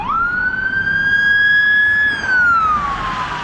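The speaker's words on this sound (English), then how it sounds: "Oh, we've got a police car coming here." A sheriff's police car siren passes close by, one loud rising and falling wail over road noise and traffic rumble.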